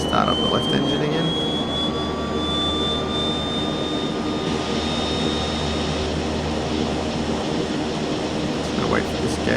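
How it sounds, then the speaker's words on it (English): The left engine of a Twin Otter in the Prepar3D flight simulator spools up with a loud turbine whine that climbs steadily over a constant roar, with a voice speaking over it. "Start up the left engine again."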